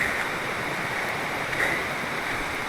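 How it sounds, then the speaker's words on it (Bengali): A waterfall in the hills of Bilaichhari, Kaptai, Rangamati gives off a steady, dense rushing roar of falling water. The sound holds at an even loudness throughout, with no voices over it. "ঝর্ণা শব্দ শোনা যাচ্ছে এই যে ঝর্ণা পড়তেছে"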